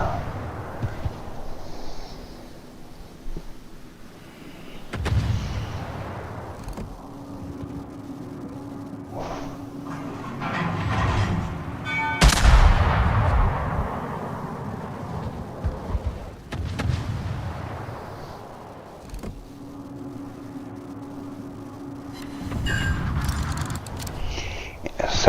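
Naval artillery fire from warships in the World of Warships video game, several heavy booming salvos with rumbling decays spread across the stretch, loud and close, with faint voices under the gunfire.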